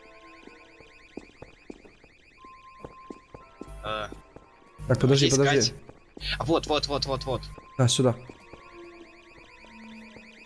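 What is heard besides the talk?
car alarm in the video game Garry's Mod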